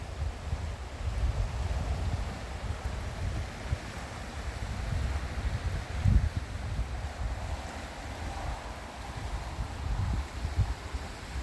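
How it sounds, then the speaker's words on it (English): Averon river flowing beside a quiet resting spot near the Dalmore Distillery, a steady broadband rush of moving water that stays even and close throughout, with a few louder surges and no voices. "Just listen to the river."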